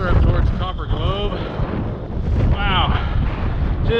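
Chilly wind on Cedar Mountain buffets the microphone in gusty, rumbling bursts, with a voice faintly audible through the roar.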